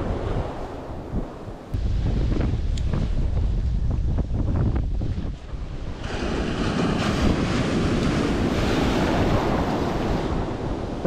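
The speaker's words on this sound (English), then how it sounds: "That wind behind me is definitely helping" Wind blows across a surf beach where bass are fished with lures, a heavy rushing roar of gusts and breaking waves buffeting the microphone, loud and continuous with no voices.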